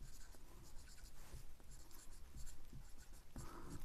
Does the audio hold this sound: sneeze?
no